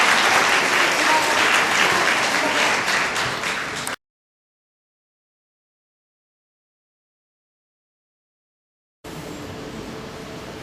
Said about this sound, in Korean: 오늘 주례를 맡아주신 우리 선생님께 다시 한 번 더 박수를 보내주시기 바랍니다